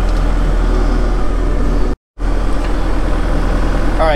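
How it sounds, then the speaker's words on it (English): Bobcat Toolcat 5600 utility vehicle engine lugging under load, a steady loud mid-low drone that cuts out briefly midway and resumes, with a rising whine near the end. "that's an easy way to kind of lug the engine and make sure that that's operating correctly"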